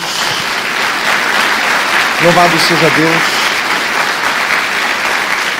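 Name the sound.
congregation applause for Jesus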